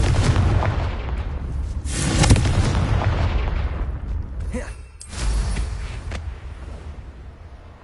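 Repeated explosive spell blasts from the Confringo curse in the game Hogwarts Legacy, loud booming bursts around two and five seconds over a rumbling battle background.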